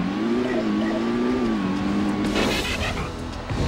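A steady engine drone with a wavering pitch from a car driving in a Transformers video game, with a brief rattling burst near the end.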